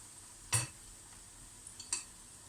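Grated carrots and peppers are sautéed in a pan, with a faint, low sizzle, one sharp utensil scrape and a couple of light taps as the vegetables are stirred, and no talking.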